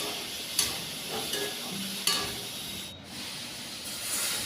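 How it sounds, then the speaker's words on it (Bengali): Soaked chana dal being stir-fried with meat masala and Kashmiri chilli in a pan, a steady close sizzle broken by a few sharp scraping stirs, with no talking. "আগে থেকে ভেজানো ছোলার ডাল দিয়ে দিলাম। ভালো করে কষিয়ে"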